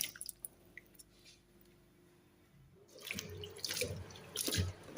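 Peeled ginger and garlic rubbed and washed by hand in water, starting with a few faint drips and light taps, then swelling into close splashing and squishing sloshes in a bowl or sink.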